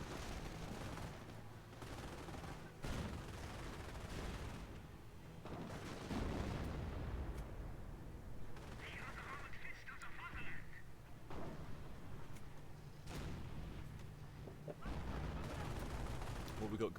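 Artillery and gunfire in the Company of Heroes video game: dull booms and bursts of shooting at moderate distance, rumbling continuously under a commentator's talk.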